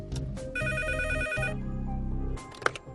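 A telephone ringing in a quiet school staff office, a close electronic ring with a repeating tonal pattern lasting a couple of seconds.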